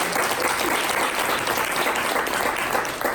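Sustained audience applause fills a room at an LGBTQIA+ nightlife event in New York, a steady dense wash of many hands clapping at even loudness throughout.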